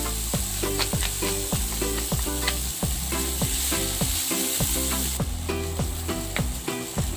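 Tomatoes cook in a hot pan, with a loud, continuous sizzle running beneath upbeat background music that has a steady rhythmic beat, and no speech.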